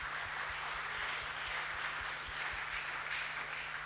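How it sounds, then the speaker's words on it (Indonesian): A congregation at a Christmas church service applauds, a steady wash of many hands clapping together with a soft thumping beat beneath it, sustained throughout at a moderate distance. "Berikan tepuk tangan untuk Tuhan."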